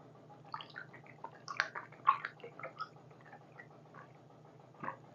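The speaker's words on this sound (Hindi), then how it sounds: "माइक पास में ही लगा है, हो सकता है पानी पीने का आवाज आ गया हो" Someone drinks water right next to a close microphone, giving a series of small wet gulps, swallows and mouth clicks in irregular rhythm, soft yet intimate against a quiet low hum.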